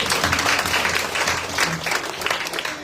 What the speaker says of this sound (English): Yeah, you should clap for that.